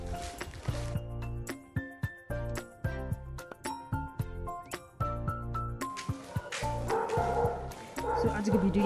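Dogs bark out in the street late at night in a rapid series of loud barks and yips, with a few whimpers, continuing close by for several seconds.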